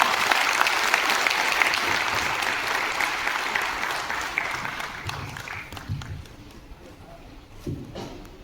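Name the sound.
audience applause welcoming Acharya Gautam Khattar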